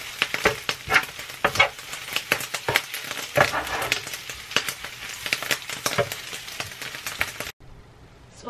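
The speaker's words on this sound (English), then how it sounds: "Don't take long to cook turkey bacon" Turkey bacon frying in a pan gives steady close sizzling with sharp crackles and pops, then cuts off near the end.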